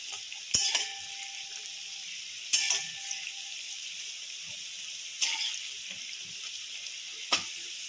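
Pieces of young jackfruit fry in oil in a home kitchen, a steady soft sizzle broken by four sharp utensil clanks against the pan, with no talking.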